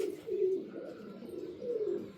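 Pigeons at a home loft, including a female carrying an egg with a male nearby, give soft throaty coos in two rolling bursts, close and moderately loud, with no voices over them.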